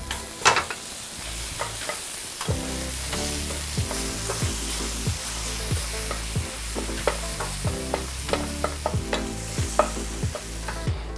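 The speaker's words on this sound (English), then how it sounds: "my mixture of tortilla chips and salsa verde, I'm gonna go ahead and add to this fried egg mixture" Tortilla chips and salsa verde are stirred into a fried egg mixture in a pan, with steady rhythmic scraping and stirring strokes over a soft, continuous sizzle, close up and without speech.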